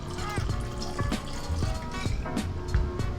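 Vodka poured into a cocktail shaker, a continuous liquid fill with glugging and trickling, close and fairly loud, with clinks and handling knocks throughout.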